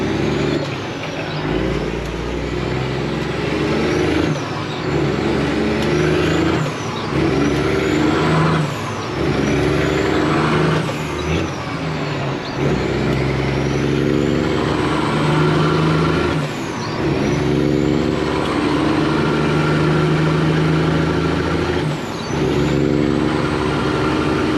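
A broken-down truck's motor running to warm up, a loud, close, steady engine drone with recurring pulsing surges and hissing swells repeating every few seconds.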